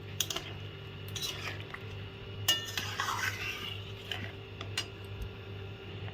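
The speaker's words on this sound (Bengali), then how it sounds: "পটলগুলো দিয়ে একটু নেড়ে চেড়ে নেব" Fried pointed gourds are stirred into gravy in a pan, with sparse, fairly quiet clinks and scrapes of a spoon against metal at irregular intervals over a low background hum.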